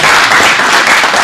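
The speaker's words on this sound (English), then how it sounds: "If you'll give them a round of applause" An audience in a school gathering applauds students standing up, loud dense clapping filling the whole brief moment.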